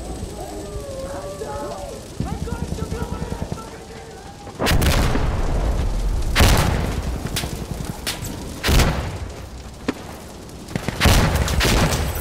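Grenade explosions in the tactical shooter Insurgency: Sandstorm: several loud, close blasts landing in quick succession after a stretch of rapid gunfire, with someone talking over the scene.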